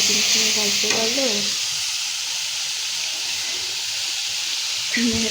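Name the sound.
boiled potatoes added to frying pan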